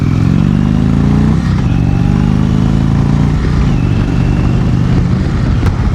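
A 2018 Indian Chieftain motorcycle riding on the road, its loud, steady engine drone rising through the gears with a few brief dips at the shifts, heard up close and continuous throughout.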